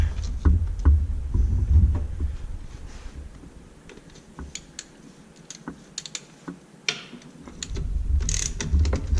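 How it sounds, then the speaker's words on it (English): A ratchet works loose 13mm nuts on the EGR valve of a 1995 Ford F150 4x4, producing bursts of rapid clicking and metallic ticks close up, with a low engine-bay rumble behind them that fades in the middle and returns. "Now we should be able to unbolt this. 13mm nuts holding this on."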